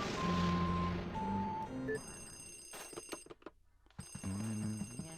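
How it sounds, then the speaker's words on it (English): In Luigi's Mansion on the 3DS, a telephone rings in repeated bell bursts that stop for a moment and then resume. The ringing is loud and close, with no voices. "there's another phone here that's ringing"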